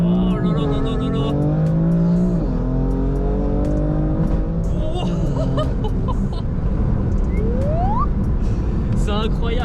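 A 600 hp BMW M4 engine revs hard and loud, rising and falling in pitch as the car drifts and tires squeal, with excited voices and laughter inside the car over the roar.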